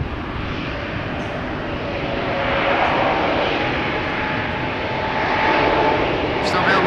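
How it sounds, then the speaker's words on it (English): An Airbus A320neo jet departing from a wet runway at Amsterdam Schiphol in rainy weather produces a broad, steady engine roar that swells slightly and stays loud throughout, with no voices. "It's the OELZP going to Vienna, an A320neo."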